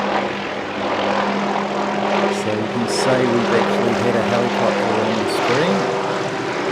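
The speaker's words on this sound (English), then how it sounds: "Okay, here's a helicopter." A helicopter flies past an aero club airfield, its engine and rotor making a loud, steady drone that swells slightly midway. Someone talks over it.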